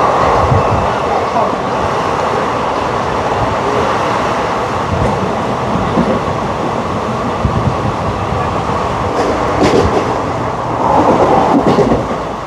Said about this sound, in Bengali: তো এখন কিন্তু ট্রেন বালি স্টেশন ক্রস করছে